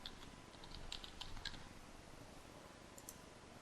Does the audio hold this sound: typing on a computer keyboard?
yes